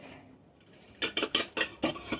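Pancake batter being whisked in a bowl, heard as a quiet lead-in followed by six quick, sharp, evenly spaced clinks of the whisk against the bowl, close and alone.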